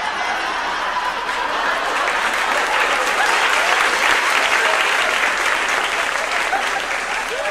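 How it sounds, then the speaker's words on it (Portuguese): Comedy show audience applauding a comedian, loud sustained clapping from a large crowd with scattered chuckles mixed in, steady throughout. "Foi a primeira vez que vocês aplaudiram um garçom na vida de vocês"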